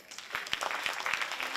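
Audience applause at a club anniversary show: steady, moderately faint clapping from a crowd that continues evenly throughout, with no voices over it.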